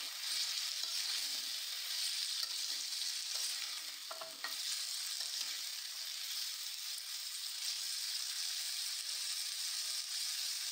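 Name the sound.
frying pumpkin with cumin, turmeric and salt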